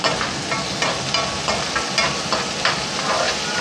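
Chopped onion and tomato sauté in hot oil over a high gas flame, a steady close sizzle broken by regular scraping stirs, with no voices.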